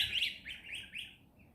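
Young farm birds chirping in a tank, a run of quick high tweets in close succession that thin out toward the end, soft and alone without talk.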